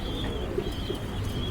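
Soft, low pigeon coos sound twice amid a steady background hum, close by and fairly quiet, with no talking.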